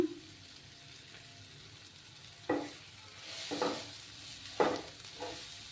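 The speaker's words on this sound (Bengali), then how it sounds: "দিয়ে ভালো করে ফ্রাই করে নেব।" Kashmiri chili powder frying in a pan, a steady soft sizzle with several sharp scraping stirs of a spatula against the pan, close and fairly quiet, no voices.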